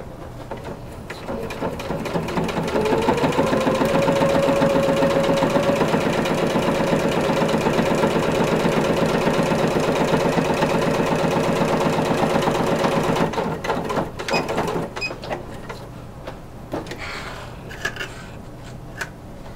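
Sewing machine running steadily through a curved seam on coutil corset bone casing, a continuous buzzing drone for most of the stretch before slowing and stopping near the end.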